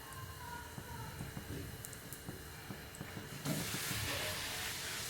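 Poori frying in hot oil gives a steady, soft hiss and sputter throughout, growing into a fuller, louder sizzle partway through, with no one talking.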